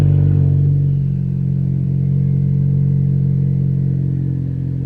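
Cold startup of a Ford Focus ST with resonator and muffler delete, heard from inside the cabin: a steady, loud low engine drone with a slightly raspy idle, holding constant throughout with no talking.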